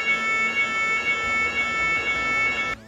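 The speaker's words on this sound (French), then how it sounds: "c'est une alarme incendie de cinéma" A cinema film-set fire alarm on a studio set rings in one steady, loud, continuous electronic tone before cutting off abruptly at the end.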